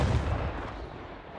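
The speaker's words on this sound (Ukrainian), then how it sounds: "Постріл!" A heavy artillery blast already underway, a broad booming roar that slowly decays into rumbling echo, loud and alone.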